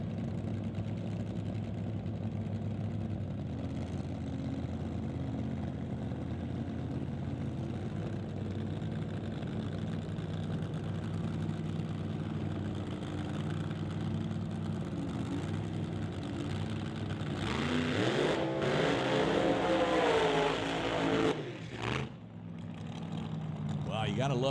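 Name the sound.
1948 Fiat Topolino exhibition drag car engine running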